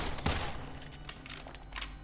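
Pistol shots in the first-person shooter Immortal Redneck, a sharp report near the start followed by a few quieter shots over a busy game-noise bed, with no talking.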